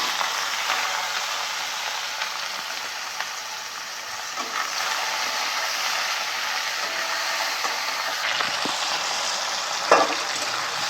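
Mixed vegetables of ridge gourd, eggplant, potato and radish fry in hot oil, giving a steady, close hiss of sizzling with occasional soft stirring scrapes and no voices.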